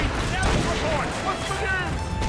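Ship cannons firing in Assassin's Creed Rogue during a naval battle, a dense, continuous volley of booms and blasts that stays loud throughout, with shouted orders mixed into the din.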